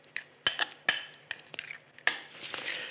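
A utensil clinks and scrapes against a bowl while goat cheese and beetroot are mixed with olive oil. The sharp taps and stirring scrapes are close and irregular, with no talking.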